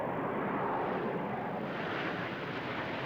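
Frecce Tricolori, the Italian Air Force aerobatic team, flying at the 1994 International Air Tattoo at RAF Fairford: a steady, loud roar of jet engines fills the sky without a break, with no voices.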